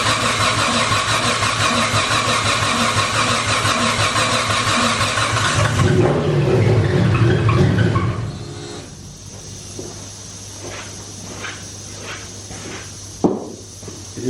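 Modified car engine fitted with a surge tank fires up with a loud, harsh roar and holds a raw, busy rumble for several seconds before dropping to a steadier, quieter idle with a low drone, close to the listener and with no talk.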